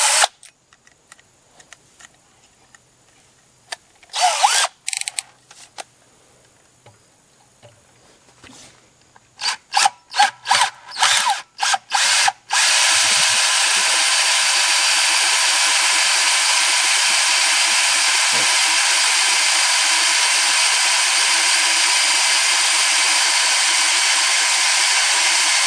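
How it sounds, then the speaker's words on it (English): A few brief tool bursts, then a sustained, loud, steady grinding whir of a drill running a 3/16 reverse drill bit continuously for a long stretch, during a Subaru EJ25 engine rebuild. "That is exactly what you want to happen with a reverse drill bit."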